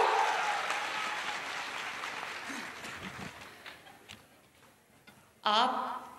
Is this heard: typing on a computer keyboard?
no